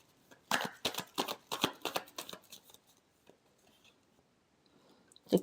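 A deck of tarot cards is shuffled in quick, crisp bursts of riffling and slapping for about two seconds, then tapers into faint rustles and a last soft card knock near the end, with no talking.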